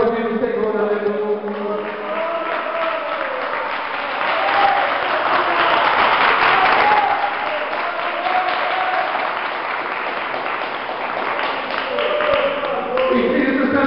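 A church congregation applauds in a sustained, dense roar of clapping lasting the whole stretch, swelling loudest in the middle, with organ or keyboard tones and some voices mixed underneath.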